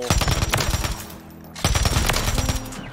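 Rapid automatic fire from the MTZ Interceptor in a video game firing range, two loud sustained bursts of gunshots separated by a brief lull, close and dominant with no talk.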